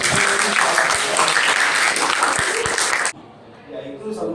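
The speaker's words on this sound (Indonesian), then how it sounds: "tepuk tangan untuk kelompok 5" Classroom of students applauding group 5, a dense burst of clapping that fills the room for about three seconds and then cuts off abruptly, leaving quiet room tone and a faint voice.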